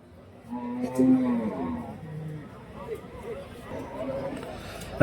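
Cattle low and moo at a livestock market in Krishnagiri district, with native breed cows and heifer calves for sale; several near moos rise over a background of crowd murmur and someone talking.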